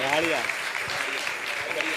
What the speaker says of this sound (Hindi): जोरदार ताली बजाकर उनका सम्मान करें